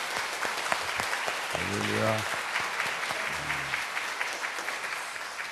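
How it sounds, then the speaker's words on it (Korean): Church congregation applauding in celebration of the church's 72nd anniversary, a dense steady clapping that fills the clip, with a voice calling out briefly over it. "우리 다시 한번 큰 박수로 영광 돌리겠습니다."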